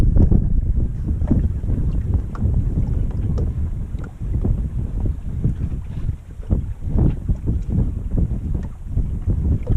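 A sailboat motors under engine power, its low continuous engine drone close and steady beneath buffeting wind noise across the microphone, with no voices.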